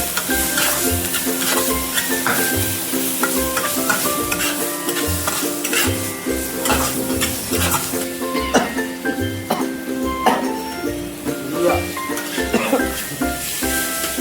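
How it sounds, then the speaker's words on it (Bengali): Onion frying with ginger and garlic paste while being stirred: a dense, continuous sizzle with repeated scraping strokes, close and loud for the whole stretch, with a voice faintly underneath at times. "পেঁয়াজটা ভাজা প্রায় কমপ্লিট, তাই আমি আর দেরি না করে আদা আর রসুনের পেস্টটা দিয়ে দিলাম।"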